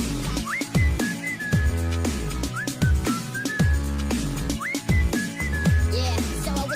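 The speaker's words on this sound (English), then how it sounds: "so I just whistled at her." A person whistles a short rising phrase again and again, clear and close over a rhythmic musical backing with thumping low beats.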